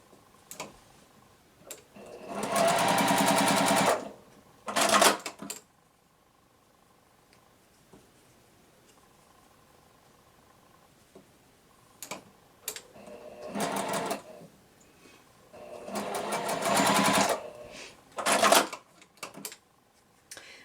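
Sewing machine stitching pieces of a quilt window unit in short bursts, several close whirring runs of a few seconds each, separated by quiet pauses with faint handling noises.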